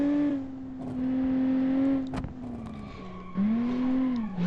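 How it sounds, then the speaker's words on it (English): A V6 engine in the BeamNG Drive driving game, mid-engined and Nissan-like in tone, hums steadily and shifts pitch as it revs up and down, with a brief tire squeal partway through. "That's a very Nissan-sounding V6, if that makes any sense"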